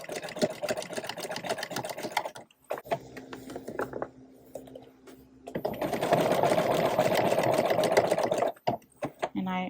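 A sewing machine stitches old jean denim for a tote bag, running in fast rhythmic bursts with short pauses and a long steady run near the end, while a person talks over it.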